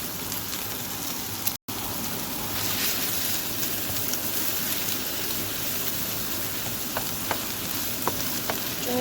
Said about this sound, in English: we're gonna crack an egg and we're gonna scramble it.